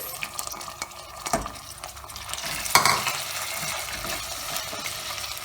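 Artichoke pieces tipped into a pan and stirred, giving a soft wet sizzle with a few clattering knocks and scrapes of the spoon, close up and without speech.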